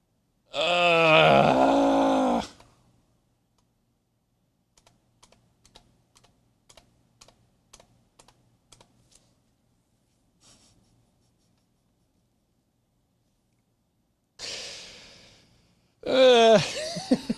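Clicky computer keyboard keys tapped in short irregular bursts during a server motherboard setup, close and crisp in otherwise quiet surroundings, with brief voiced sounds before and after the typing.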